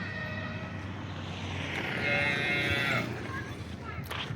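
A pregnant tall cow gives one long, drawn-out moo over a steady low background hum, fairly close and loud.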